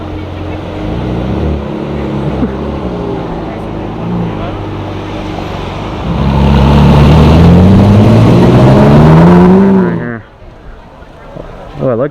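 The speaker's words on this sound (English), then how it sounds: "Ferrari." A Ferrari passes on a Beverly Hills street, its engine swelling to a loud rising rev as it goes by close, then fading fast, over steady traffic noise.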